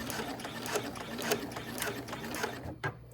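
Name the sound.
sewing machine stitching an appliqué onto a bag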